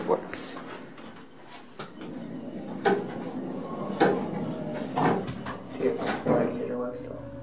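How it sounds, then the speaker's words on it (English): A Dover hydraulic elevator door in an office building rolls shut, bringing a series of clunks and sliding knocks spread through the clip. They come at close range, with faint background murmur. "Door closed when you push the button."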